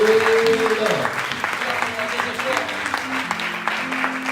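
A church congregation applauds the Lord, steady clapping and crowd noise running throughout with voices and singing-like tones mixed in underneath.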